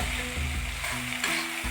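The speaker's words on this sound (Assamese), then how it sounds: "এতিয়া কচুখিনি ভাজি থাকিব লাগিব।" Taro pieces fry in a pan, giving a steady close sizzle while being stirred, with a low droning hum running underneath.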